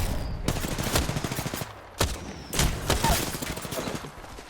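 Rapid bursts of automatic gunfire in the video game Apex Legends, loud and close, with clusters of shots separated by brief pauses over a steady background of game sound.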